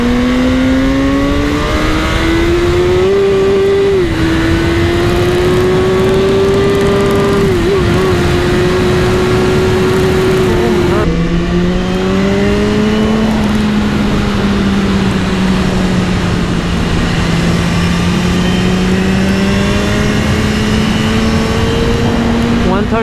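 A BMW S1000R motorcycle engine on a fast ride, loud and close, its whine climbing and holding through gears, with a sharp shift-like drop midway before it pulls steadily again over wind rush.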